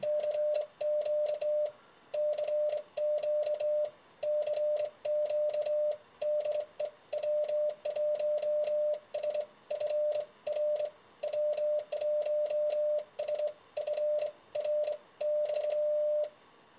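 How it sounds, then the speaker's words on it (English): Rapid Morse-style keying from a W1SFR TBCP "Fat Boy" cootie single-lever key with a stainless steel base, sending crisp sidetone beeps in irregular bursts of dots and dashes accompanied by sharp mechanical clicks, steady and close, with no voices. "So that's using it as a straight key, and then as a Cootie key."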